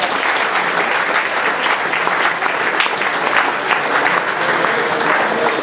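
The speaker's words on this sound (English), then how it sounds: "I think they deserve a round of applause as well" Loud, sustained applause from a large crowd at a victory dinner dance, dense steady clapping throughout with no pause.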